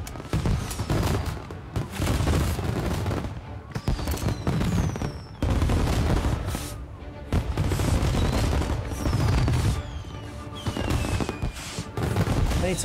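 Heavy gunfire in Mafia: Definitive Edition, dense bursts of automatic shots and booming blasts crackling almost nonstop, loud and close with only brief pauses between volleys.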